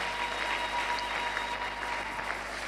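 A church congregation claps to acclaim God during a sermon, a steady wash of applause at moderate distance that holds evenly throughout, with a faint background hum.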